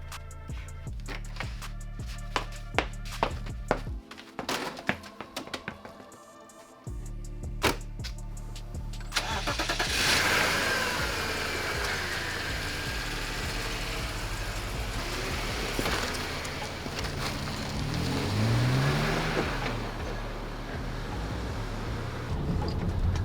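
A manual-transmission BMW X5 starts up and settles into a steady engine drone as it drives off, with road and wind noise building and holding fairly loud throughout.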